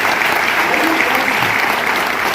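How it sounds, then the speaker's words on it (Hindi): At a business success seminar, a large audience applauds loudly: a dense, steady wash of clapping throughout, close and continuous with no talk over it. "मैं चाहूंगा इनके लिए भी जोरदार ताली होनी चाहिए"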